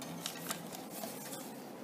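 Scissors snip through a paper band, soft repeated cutting crunches close by and fairly quiet, with no speech.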